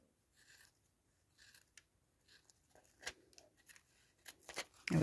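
Scissors trimming a paper envelope close by, a series of soft snips and paper rustles, sparse at first and growing louder and quicker toward the end.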